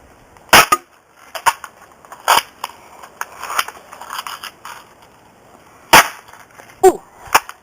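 Marksman .177 caliber BB gun fired at a target about 20 feet away: sharp, separate shot cracks in an irregular sequence, some with a quick metallic rebound, with faint rustling between shots.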